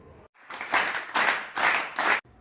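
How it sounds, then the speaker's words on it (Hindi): Enthusiastic applause in several loud bursts of clapping, with brief pauses between them. "ये जोरदार तालियां।"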